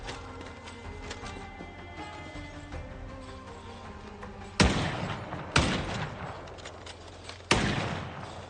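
Three loud gunshots ring out in Project Zomboid, spaced about a second or two apart, each a sharp broadband crack with a decaying tail, following a stretch of steady ambient game music and noise.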